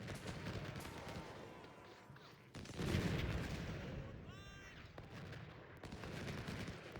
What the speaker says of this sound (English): So our cannons should do enough damage to keep these guys occupied